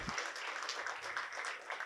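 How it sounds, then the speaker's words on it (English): An audience applauds in a steady, fairly soft wash of overlapping claps that runs the whole short stretch without pause. "You don't have to clap for me."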